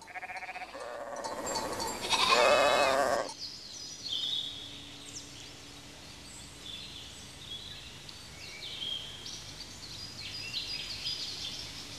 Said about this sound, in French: un troupeau de moutons se régale de l'herbe grasse et abondante de ses rives